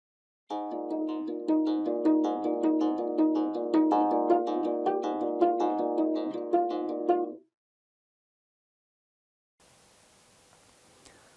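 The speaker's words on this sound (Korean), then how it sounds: "검은고로 연주하는 피치카토 소리를 들려드리겠습니다." Geomungo strings plucked pizzicato with the fingers in a steady run of distinct, resonant attacks for about seven seconds, then silence and faint background hiss.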